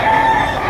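A rooster crows once at a gamefowl auction market in Lipa City, a loud, close call with a sustained tonal strain over steady crowd and market noise.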